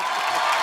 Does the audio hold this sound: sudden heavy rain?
no